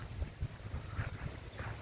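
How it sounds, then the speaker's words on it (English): Strong wind gusts on a breezy day by calm seas, buffeting the microphone as low rumbling bursts that swell and fade in an uneven rhythm, close and moderately loud, with no voices. "Very breezy again. Got some good wind gusts. Sometimes they're really strong."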